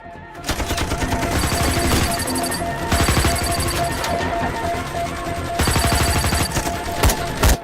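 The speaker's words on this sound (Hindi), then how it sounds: "हम तो फायरिंग कर रहे हैं सर।" Gunfire in a Hindi action crime thriller film: loud, close bursts of rapid automatic fire in several long volleys separated by brief gaps, with a few single sharp shots at the end.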